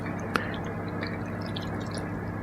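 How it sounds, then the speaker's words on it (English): Tomato and bacon pasta mixture is poured into a baking dish: soft wet squishing and dripping, with one sharp click near the start, close and fairly quiet, no talking. "So we're going to pour this in here now and spread it out nice and evenly."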